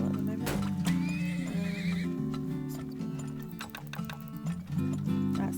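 Horses neigh and whinny with a steady clip-clop of hooves in the video game Turmoil, a loud, continuous game soundtrack with bright whinnies near the start and hoofbeats running throughout.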